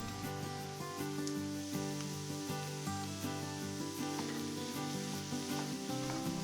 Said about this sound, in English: After a minute or so, add the minced beef.